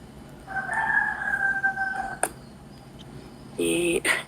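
A rooster crows in Syria in a long drawn-out call at moderate distance, followed by a click and a shorter crow amid low background noise.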